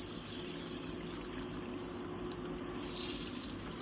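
Water runs steadily at a villa staycation in Karjat, a constant broadband rushing and trickling that holds evenly throughout without pause or speech.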